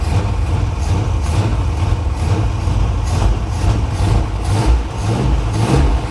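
A 1977 Chevy Monte Carlo engine runs close and loud with a rough, steady rumble, with gentle swells of revving over about six seconds and no voices.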